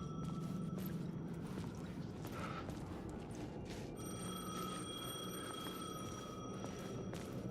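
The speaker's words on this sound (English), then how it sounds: "The payphone was ringing." A payphone in the video game Alan Wake 2 rings in repeated bursts under a low, steady ambient hum, with faint thuds and rustles around it.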